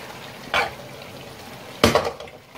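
Fried taro (arbi) pieces tipped into a pan with eggplant for an arvi baingan dish, giving two short clattering, sizzling bursts, the second louder and longer, with quiet kitchen background between.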